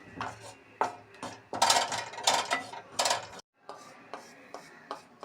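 Gram flour (besan) dry-roasting in a pan, with repeated scraping and clattering of a spatula against the metal in uneven bursts, close and fairly loud, then a brief pause before lighter scraping resumes.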